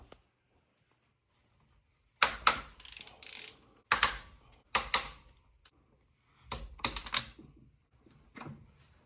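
Sharp bursts of ratchet clicking as camshaft bolts are loosened on a 2G DSM engine, several short close runs separated by quiet pauses.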